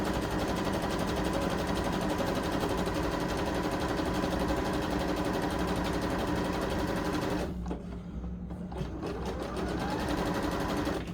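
A sewing machine stitches fabric with a dense, steady mechanical whir and rapid needle chatter that runs almost the whole time, briefly easing and thinning near the end before it picks back up.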